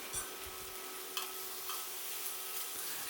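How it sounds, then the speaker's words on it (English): Onions being stirred in a pan with a utensil, soft sizzling under a few light scrapes and taps. "just give that a little bit of a stir in"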